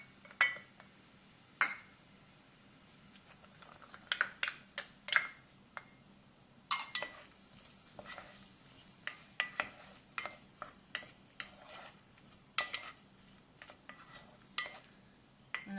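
Chopped onions going into a pan over an electric stovetop at the start of an espagnole sauce: faint steady sizzling under scattered clinks and scrapes of a utensil against the pan, with no talking.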